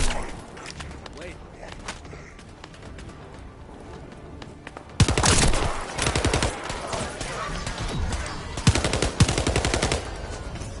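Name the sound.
assault turret firing in The First Descendant video game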